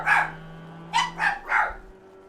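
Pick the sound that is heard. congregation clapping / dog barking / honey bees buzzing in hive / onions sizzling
dog barking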